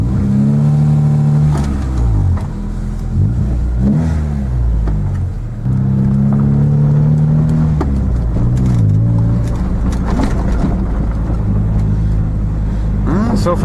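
Old Honda Prelude with a newly replaced alternator out on a test drive, its engine droning and revving up through gears, loud and close from inside the cabin, with people talking over it.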